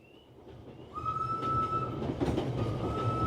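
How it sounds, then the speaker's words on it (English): A passenger train bound for London rumbles steadily along the rails, with a sustained high wheel squeal riding over the low rolling noise, close and continuous without voices. "Next day found Manson and his missus on the train."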